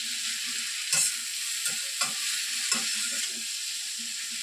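Okra frying in a pan over a medium-low flame, a steady close sizzle with a few soft stirring scrapes and clinks of a spoon.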